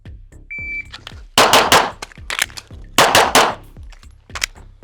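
AMY556 rifle fired during a reload box drill, sharp loud shots in quick pairs and clusters echoing outdoors, with a short timer beep near the start and no talking.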